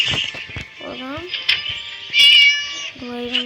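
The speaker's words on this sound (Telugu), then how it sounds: "పిల్లి" A cat meows repeatedly in the Scary Teacher video game, short rising calls over game sound effects and music, with a person talking in between.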